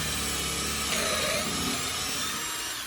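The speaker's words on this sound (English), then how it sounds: "push your hand on the butt to push the whole drill down until it reaches the collar" Power drill boring a pocket hole in wood with a Kreg pocket jig, a steady high whirring motor that holds throughout with a slight strain as the bit bites, loud and close.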